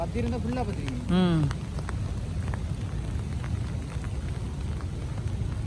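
Wind and rain outdoors in a village during a storm, a steady broadband wash under a brief voice at the start, then continuing alone at moderate loudness.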